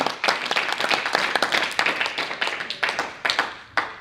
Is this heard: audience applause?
yes